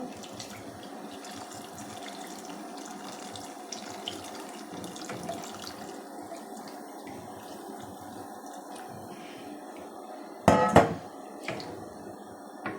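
Water runs steadily from a tap with a soft, even hiss, broken near the end by a few louder splashes and clatters.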